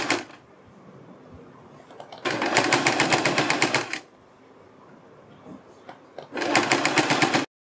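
A sewing machine stitches a neck strip onto a kurti in two close, rapid bursts of about two seconds and one second, separated by quieter handling and speech.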